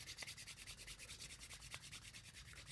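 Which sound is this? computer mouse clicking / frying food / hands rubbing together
hands rubbing together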